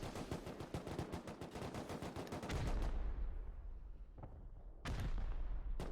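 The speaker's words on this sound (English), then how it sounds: "Now they've finally noticed and are shooting them down." Dense automatic gunfire in the video game Rust as players shoot down incoming rockets, a rapid stream of shots giving way to heavy rumbling blasts and a final loud burst.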